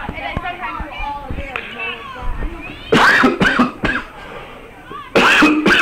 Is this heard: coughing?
yes